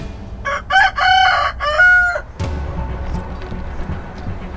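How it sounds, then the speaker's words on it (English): A rooster crows loudly and close by in a single long, harmonic call lasting a couple of seconds, then fades to background clucking and farmyard noise. "just like this rooster I have here"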